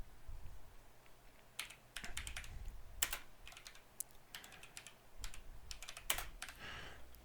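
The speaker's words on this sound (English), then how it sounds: "Sorry, I'm horrible at typing." Computer keyboard typing in uneven bursts of close, clicky keystrokes with short pauses between runs, alone without talk, during a live session building character poses.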